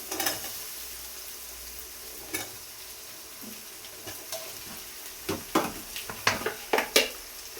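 Potatoes with salt cooking in oil in a pan: a quiet sizzle runs throughout, broken by a handful of stirring scrapes and clinks that grow more frequent toward the end.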